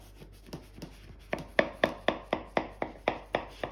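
A knife saws through the flaky puff-pastry crust of a homemade frangipane galette des rois in about a dozen quick, crisp, evenly spaced crunching strokes, close up and alone.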